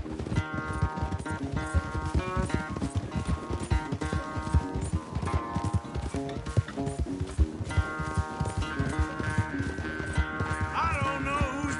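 Horse hooves clatter in a fast, continuous galloping rhythm under layered game music, steady and close throughout.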